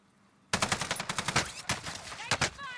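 Rapid automatic gunfire in a World War II shooter game, with MP40 submachine guns in play, a loud burst of closely spaced shots breaking out after a brief quiet moment and continuing in uneven volleys.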